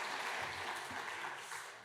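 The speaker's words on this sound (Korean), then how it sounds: "우리 한번 귀한 사명 감당해 계신 선교사님들에게 박수 부탁합니다." A standing church congregation gives brief applause for missionaries during a Sunday service, a soft, dense patter of many hands that fades slightly toward the end.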